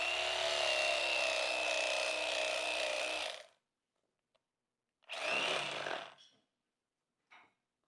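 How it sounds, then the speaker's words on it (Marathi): A knife saws through the tough back end of a white pineapple from Hawaii, a close, rough rasping stroke lasting a few seconds, then a shorter second cut and a brief scrape, with silence between. "आणि आपण आता याचा पाठीमागचा भाग कापून घेऊ."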